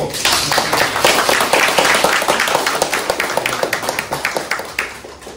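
An audience at a Korean-language academic lecture on classical Korean literature welcomes the lecturer with a burst of clapping. It is dense and steady at first, then thins into scattered, separate claps that fade out.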